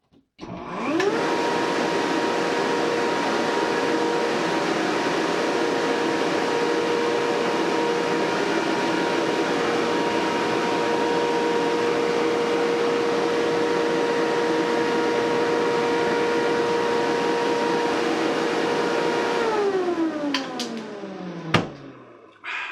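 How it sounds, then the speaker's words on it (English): Electric motor spinning a wooden fan impeller and moving air: a loud, steady whirring hum starts up, runs evenly for about twenty seconds, then winds down with a falling pitch before stopping. "I've got the cord switched over to this motor, and we'll start it up and show you how it works."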